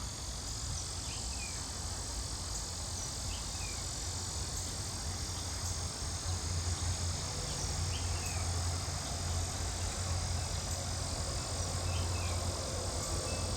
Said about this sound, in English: Oh, and the lyric cicada's in one of my trees now.